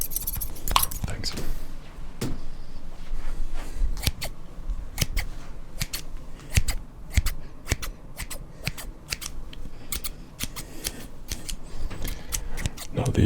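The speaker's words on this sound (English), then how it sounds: "These are what I'd consider the box cutting scissors" Sturdy box-cutting scissors give close, sharp, irregular snips, some in quick pairs and others spaced out, with no voice over them.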